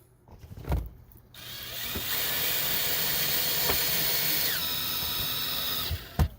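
A power drill drives the four mounting screws of a ProShine automatic chicken coop door, whirring steadily for about five seconds after a short burst, loud and close, with no talk.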